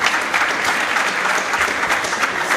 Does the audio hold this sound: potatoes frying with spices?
no